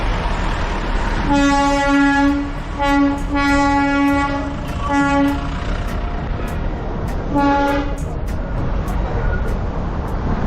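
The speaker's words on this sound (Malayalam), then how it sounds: "Darjeeling Himalayan railway" A Darjeeling Himalayan Railway train running at night sounds repeated horn toots in several bursts over a steady rolling rumble of the train.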